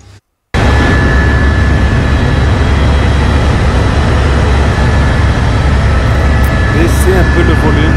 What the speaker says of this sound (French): Et là, en hélicoptère, supercoptère.